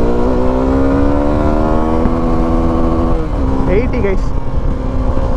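A Suzuki V-Strom 250 adventure motorcycle accelerates in second gear, its engine note rising steadily before easing off, with a rider speaking over the drone.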